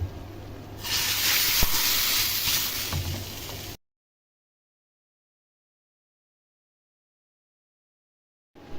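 Hot tempering oil poured into haleem gives a loud, sharp hiss and sizzle that bursts up and holds for a few seconds before the sound cuts out to silence.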